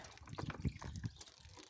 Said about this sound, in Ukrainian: у нас дощик сьогодні, і сонечко крапає, і в мене стріхи біжить вода